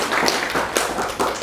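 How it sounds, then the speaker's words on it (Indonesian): Brief burst of audience clapping for a man after a call to prayer, a scattered patter of hand claps at close range lasting only a moment. "Monggo kasih tepuk tangan dulu untuk bapaknya."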